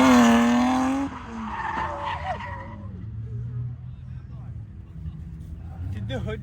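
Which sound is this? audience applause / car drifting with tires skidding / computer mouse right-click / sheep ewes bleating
car drifting with tires skidding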